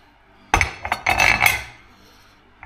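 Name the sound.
metal clutch secondary half slid onto a tool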